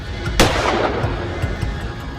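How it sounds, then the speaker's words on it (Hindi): A single loud gunshot from a handgun in a Hindi crime short film cracks sharply, followed by a decaying echo over low ambient noise, with no talking. "फिर इस गन की बुलेट घुसा दो।"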